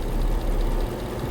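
A Dodge Durango's 5.7 Hemi V8 with a tick or exhaust leak runs steadily close by for a brief moment, giving a low, even rumble with no voices.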